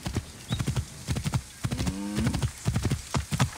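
A horse's hooves clop in quick, rhythmic bursts in the video game Assassin's Creed Origins, loud and close, with a short whinny in the middle.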